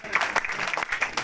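Clapping rises from a crowd welcoming people at a Gujjar political conference in Ramban, a brief patter of hands in uneven bursts mixed with background voices.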